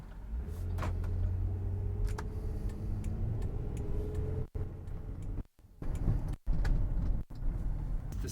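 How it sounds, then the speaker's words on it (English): Steady low road rumble inside a moving 1999 Toyota Sienna XLE minivan, a continuous drone with faint ticks, broken near the end by a few brief dropouts. "The road noise isn't terrible."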